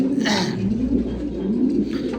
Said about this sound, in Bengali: দেখতে পাচ্ছেন এখানে অনেক কবুতর আছে